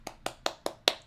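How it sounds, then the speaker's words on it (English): Five sharp hand claps ring out at an even, steady pace, close and fairly crisp, with no one talking. "Clapping."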